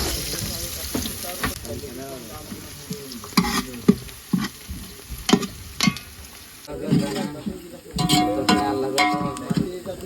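Curry and vegetables cooking in a pot aboard a fishing boat: bubbling, sizzling and scraping stirs, with sharp clinks of a utensil against the pot and splashes of water, in close, uneven bursts.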